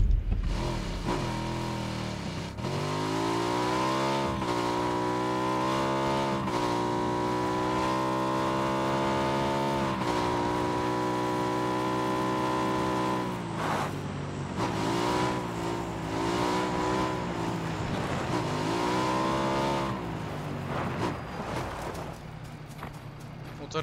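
A motorcycle engine in PUBG revs and drones steadily for about twenty seconds, rising and falling in pitch as it shifts and accelerates, loud and close, with voices talking over it now and then.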